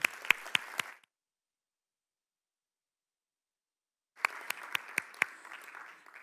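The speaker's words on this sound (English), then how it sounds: "Just give him a round of applause." A conference audience at Scratch Conference Europe 2019 claps for a volunteer: a short burst of crisp applause with sharp individual claps, a silent gap of about three seconds, then a second burst of clapping.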